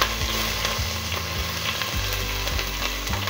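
Curry leaves fry in hot oil right after mustard seeds have popped, the start of a simple Kerala chicken curry, giving a steady, close, crackling sizzle with a low hum underneath.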